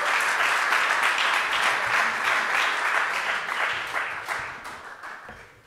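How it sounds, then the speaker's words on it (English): An audience at an open source policy summit applauds as panelists are invited on stage, producing steady, dense clapping that gradually fades over several seconds, with no talk over it. "I invite you on stage, and yeah, a round of applause."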